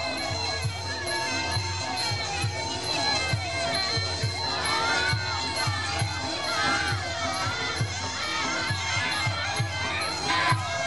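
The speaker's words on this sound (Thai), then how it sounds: "กองเชียร์ดังเยอะๆเลยครับผม" A large crowd roars and cheers continuously at a women's Muay Thai bout during a Songkran festival boxing event, loud and dense throughout the clip, with voices shouting over the din.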